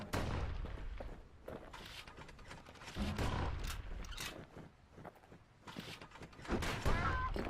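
Gunfire from the Kid's gun in the video game Bastion, a run of sharp blasts spread through the clip among busy game effects and music, fairly loud and close.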